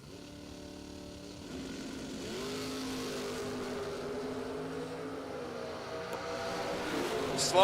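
A drag racing motorcycle launches at a drag strip, its engine note climbing steadily as it rises onto a wheelie and carries it for a long stretch, heard from some distance with faint crowd ambience.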